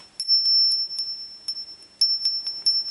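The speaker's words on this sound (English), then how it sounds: "here we have a nice collection of all kinds of bells" A small souvenir bell from Georgia, decorated with buildings, rings in a run of light, bright tinkling strikes, some quick and some spaced, fairly close and alone, with a steady high ring sustaining underneath.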